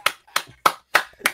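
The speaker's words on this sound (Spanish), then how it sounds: "¡Aplauso, papi! ¡Aplauso!" Five sharp hand claps in a steady, evenly spaced rhythm, close and fairly loud, with silence between each clap and no talking.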